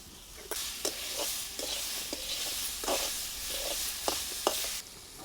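Vegetable sautéing in spiced masala in a pan with salt added, a soft continuous sizzle broken by repeated scrapes and taps of a spatula, fairly quiet and close with no voices.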